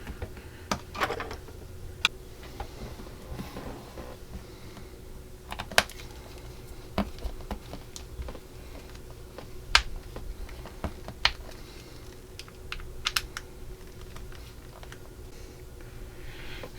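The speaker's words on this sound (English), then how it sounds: "all 4 BM screws are in and tight" Small screws driven into the wheel halves of a British SAS Willys Jeep scale model; faint scattered ticks and clicks over a quiet background hum, close and soft, with no talk.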